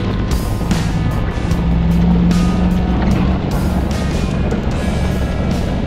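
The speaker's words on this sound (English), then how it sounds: "I've been driving half sideways through here, but I just can't get grip." A vehicle grinds through thick mud and deep ruts on a Death Valley track during Hurricane Hilary, its engine a steady, loud, close rumble for the whole stretch with no talking.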